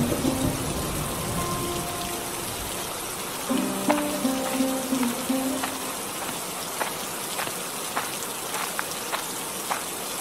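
Steady rain falls on open farm fields, a continuous hiss of drops with scattered sharper patters, joined midway by a faint rhythmic tonal pulsing in the background.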